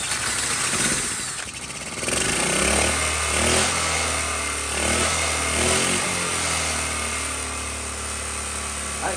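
A 1979 Honda Z50 small motorcycle engine with a plugged exhaust, sputtering as it tries to start and then catching into a steady, buzzy idle that rises and falls slightly, close up and without talk.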